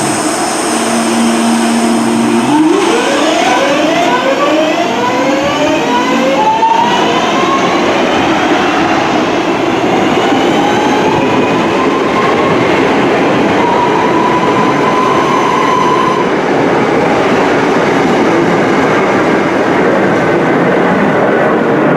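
A train passes through Birmingham International station, a loud steady rumble with rising and falling tonal whines and rhythmic wheel clatter lasting throughout.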